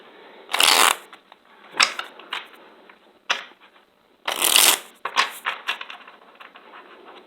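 A deck of tarot cards is shuffled close by in several crisp riffling bursts, two of them longer and louder, separated by short pauses and softer flicks. No one speaks.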